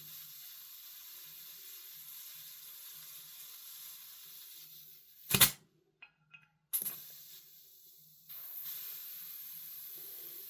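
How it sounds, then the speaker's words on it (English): Gas is squirted into a WellPro AK12 gas blowback airsoft rifle magazine in short, sharp hissing bursts, close and fairly faint, separated by near-silence, with a longer soft hiss at the end. "I'm going to take some gas and put a squirt in this magazine."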